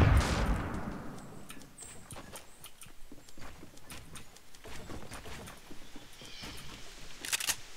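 Rapid gunfire crackles through a Fortnite match while a player is being sniped at: a dense run of sharp shots, loudest at the start, then steady scattered bursts with a final cluster near the end, with no talk.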